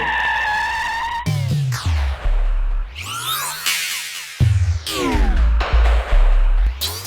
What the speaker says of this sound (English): He got a little sideways coming off of turn number 2.